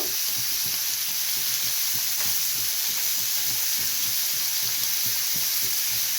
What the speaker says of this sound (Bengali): ধনে গুঁড়ো দিয়ে এইটাকে নিয়ে হালকা হালকা নাড়তে থাকবো মশলাটা এখানে কষা হচ্ছে